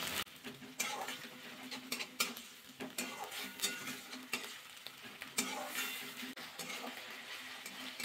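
Onion, garlic and ginger paste frying in a pan for an egg and soybean bhuna, with a constant hissing sizzle broken by repeated clinks and scrapes of a spoon stirring against the pan.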